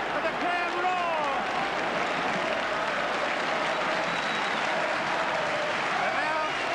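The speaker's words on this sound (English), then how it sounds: "And now they remember to applaud their team who've done so well." Stadium crowd at a 1986 rugby league match between St Helens and Australia applauding steadily, a dense, continuous wash of clapping with a commentator talking over it.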